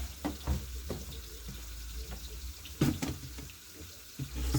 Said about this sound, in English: as I put the rice here so that I can wash it